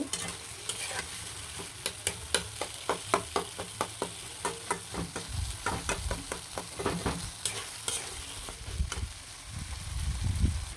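A spiced potato mixture fries in a pan with steady sizzling and a regular run of sharp stirring scrapes, close and clear, with heavier clatter toward the end.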